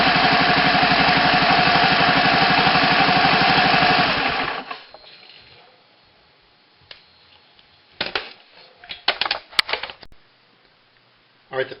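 Honda ATC 110 engine runs close with a steady, buzzing putter for about four seconds, then cuts out, leaving scattered clicks and knocks.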